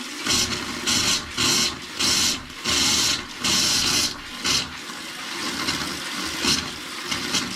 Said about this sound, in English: we will just turn the hot water on. You're going to get a little bit of air.